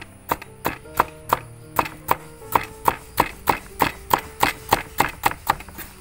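A knife chops vegetables thinly for aviyal in a home kitchen, striking the board in a steady, even rhythm of about seventeen crisp cuts, close and clear with no talking.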